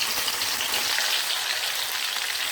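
Teri anchovies sizzle and spit in hot oil in a pan, a steady dense crackle like rain that runs evenly and close throughout with no talking.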